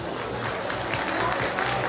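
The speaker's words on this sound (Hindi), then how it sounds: "तो इनके लिए बहुत ज़्यादा तालियां।" An audience applauding at a live makeup artist demo, a short burst of crowd clapping with bits of voice mixed in.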